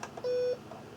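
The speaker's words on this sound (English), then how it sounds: "what happens when you click sound? Oh, well, PC speaker beep." A Compaq LTE Elite 4/75C laptop's PC speaker gives one short, steady electronic beep lasting about a third of a second, clear against a faint background.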